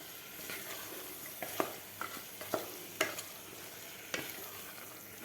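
Cowpea and potato curry being stirred in a pressure cooker, with soft steady frying sizzle and a few light spoon scrapes and knocks against the pot, faint and close.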